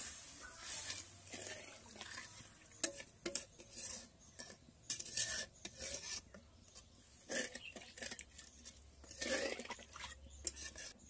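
A utensil stirring fish curry scrapes and clinks against a pan in short, repeated strokes, with occasional sharper metallic taps, fairly close and moderately loud.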